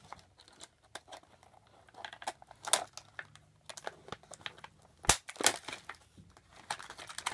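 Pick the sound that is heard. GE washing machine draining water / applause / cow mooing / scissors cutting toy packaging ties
scissors cutting toy packaging ties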